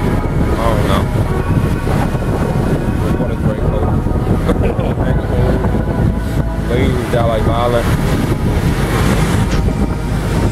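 Ocean surf at a busy beach in Ocean City, Maryland or Bethany Beach, Delaware, with heavy wind buffeting the microphone and a continuous roar of crashing waves, while people talk and shout nearby throughout.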